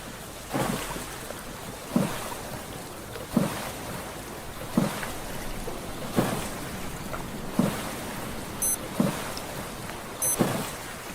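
Oar strokes through sea water while rowing a raft in the survival game Stranded Deep, a rhythmic splash roughly every 1.4 seconds over a steady bed of ocean wash, with faint clicking sounds near the end.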